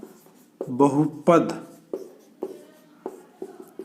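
Pen writing on paper during a maths lesson, short scratchy strokes and taps at irregular intervals heard close, with someone speaking briefly over the start.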